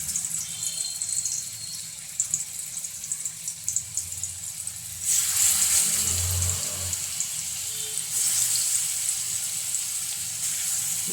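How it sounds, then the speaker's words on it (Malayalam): Pieces dropped into hot coconut oil for a curry set up a loud burst of sizzling that swells partway through and surges again later. Quieter kitchen and water-like noise comes before it. "അപ്പോൾ ഞാൻ എണ്ണ ചൂടായിട്ടുണ്ട്."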